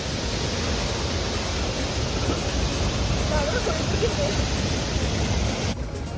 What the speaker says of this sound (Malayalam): ഇതൊരു പരന്നിടക്കുന്ന വെള്ളച്ചാട്ടം